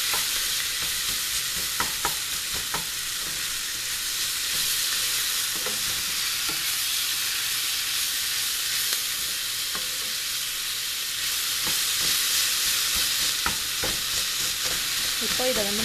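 Shark fish puttu mixture is stirred steadily in a hot pan, with a continuous soft sizzle of frying and a spoon scraping and turning the flaked fish close by. No voices are heard.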